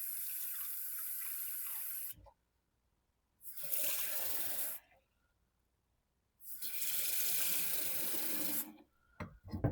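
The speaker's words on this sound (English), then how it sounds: "Now it's time to fill it with water and see if it leaks." Water pours from a tap into a 3D-printed plastic tank sealed with masking tape, in three separate bursts of rushing, splashing flow broken by silent pauses.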